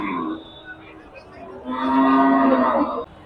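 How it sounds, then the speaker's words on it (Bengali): A cow lets out a single long, loud moo close by, after a brief lower grunt at the start. "বিশাল রাগী গরু"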